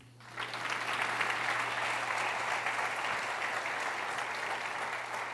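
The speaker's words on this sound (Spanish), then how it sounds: "Denle un aplauso al Señor." A church congregation applauds the Lord during a Christian sermon, steady sustained clapping from a large crowd that starts abruptly and fills the room evenly for several seconds, with no voices over it.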